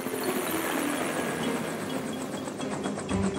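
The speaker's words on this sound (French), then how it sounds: "Morphel, transforme-toi en hélicoptère." A cartoon helicopter engine from a French children's animation runs as a steady, loud mechanical whirr with a fast rhythmic rotor chop, continuous throughout with no talking.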